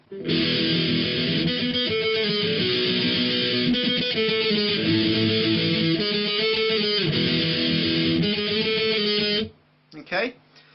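Distorted electric guitar plays a song's pre-verse, mixing power chords and single notes in a repeating pattern, loud and up close before stopping, with a short bit of speech right after.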